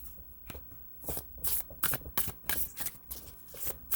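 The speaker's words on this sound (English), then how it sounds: "I can shuffle these, goodness." Tarot cards being shuffled in a series of quick, crisp riffling bursts and slaps, close up, with no talking.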